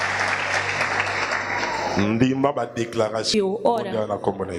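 Church congregation clapping after a sermon, a dense patter for about two seconds that gives way to a voice speaking over fading applause.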